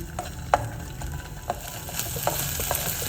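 Finely chopped onions frying lightly in a pot for chicken soup, giving a low, even sizzle close by, with a few soft stirring clicks and scrapes of the spoon.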